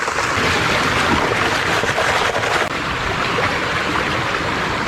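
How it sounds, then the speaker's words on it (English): A waterfall pouring beside a stream where gold panning takes place in Ireland, heard as a loud, dense, unbroken rush of falling water close by, with no voices. "hopefully you can hear me over the noise of the waterfall"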